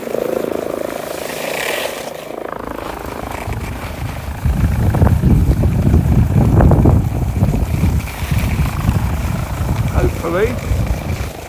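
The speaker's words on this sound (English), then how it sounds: "don't know what that chopper's doing" A helicopter flies over a ski area near a lift station, its steady rotor drone swelling louder midway under wind noise on the microphone while someone talks.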